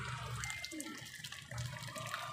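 Water pours into a pot of boiling chicken tinola soup, a steady rushing and bubbling wash with low rumble, fairly quiet and continuous, no voices.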